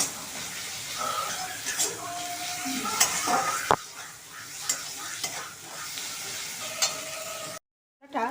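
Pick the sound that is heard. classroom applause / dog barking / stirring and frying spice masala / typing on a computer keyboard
stirring and frying spice masala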